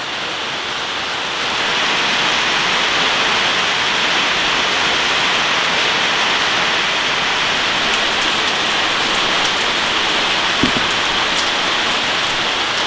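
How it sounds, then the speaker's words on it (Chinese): Heavy rain swells in after a moment and pours down steadily, a loud, even hiss with one brief knock near the end. "不然都下大雨了"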